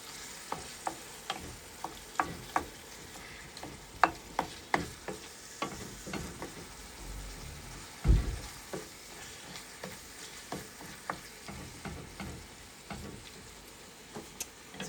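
Ground turkey for homemade lasagna sizzles steadily in a pan while a utensil repeatedly scrapes and taps through it, with one louder clunk midway; close, no speech.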